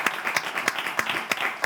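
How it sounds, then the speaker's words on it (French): An audience applauds a person being introduced, a light, steady patter of hand claps with a few sharper individual claps standing out, fairly faint and without talk. "On applaudit."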